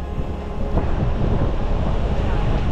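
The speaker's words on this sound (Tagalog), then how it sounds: "sobrang lakas ng hangin" Strong wind roars steadily and loudly into the microphone during a motorbike loop ride on Mindoro, with a constant rumbling buffet and no clear pauses.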